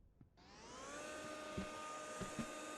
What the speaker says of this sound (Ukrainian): Оцей пилосос, він все збирає.